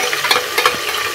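Green chilies hitting hot oil with cooked cumin seeds in a home kitchen pan, giving a loud, dense, steady sizzle and crackle close by, with no one talking.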